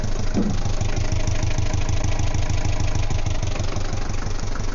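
The diesel inboard engine of a 1974 Norlin 34 sailboat runs a little roughly with air in its fuel system, giving a loud, close, steady low chug with a rapid knocking pulse throughout. No one speaks over it.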